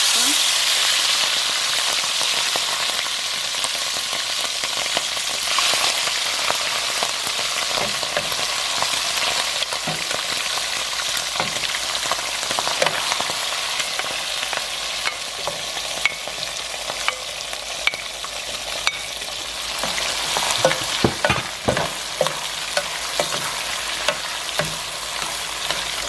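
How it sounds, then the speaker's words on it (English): Shrimp frying in hot oil in a pot, a steady close sizzle with crackling pops and occasional utensil clinks and stirring throughout, growing busier near the end. "So now I'm gonna go ahead and put some shrimp."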